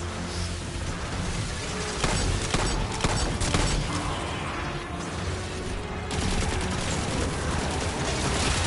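Rapid bursts of Xenophage fire in Destiny 2, heavy repeated shots layered with mechanical clatter and a steady din of combat, loud and continuous with no voices over it.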